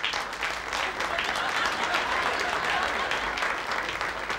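Audience in a television studio setting breaking into dense, continuous applause, a steady roar of many hands clapping with crowd murmur mixed in.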